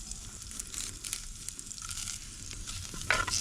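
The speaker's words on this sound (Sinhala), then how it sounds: "තෙල් ටික රත් වෙනකොට ඒකට සුදු ලූණුයි කරපිංචායි එකතු කරගන්න." Garlic and curry leaves frying in hot oil in a pot, a steady close sizzle with soft crackles throughout and a brief louder burst near the end.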